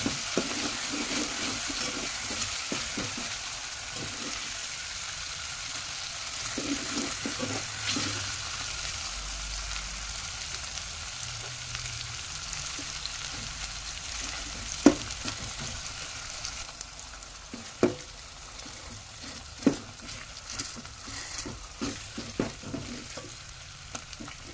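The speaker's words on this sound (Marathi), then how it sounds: "बारीक चिरून घेतलेला टोमॅटो फोडणीत चांगला शिजवून घ्यायचा आहे।" Finely chopped tomato frying in a tempering of green chilli, garlic, curry leaves and coriander, a steady hiss and sizzle with occasional stirring scrapes and clinks from the pan, heard alone without talk.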